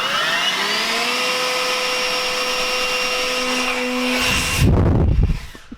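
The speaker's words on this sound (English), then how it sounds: "It's like 10 to 9 and using a leaf blower." A motorized blower whines steadily at a high pitch for several seconds, then shifts into a rough, gusty rush of air before fading away.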